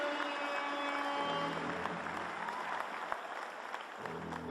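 A crowd applauds the team at a jersey retirement ceremony, steady clapping under sustained tonal music, with occasional sharper individual claps standing out.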